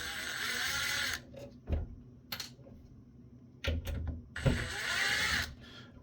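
An impact driver whines in bursts while unscrewing parts from an HP Storageworks 8/24 SAN switch, a high motor whir starting and stopping with short clicks and rattles between, close by.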